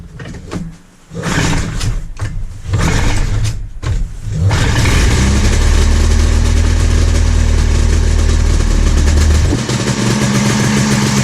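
A 1989 SRV Star boat engine, choked, sputters through a few rough attempts and then catches, settling into a loud, steady running rumble heard up close with an open door nearby.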